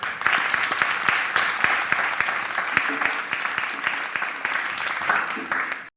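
A church choir event audience applauding, dense continuous clapping from a crowd filling the whole stretch before cutting off abruptly at the end, with some voices mixed in.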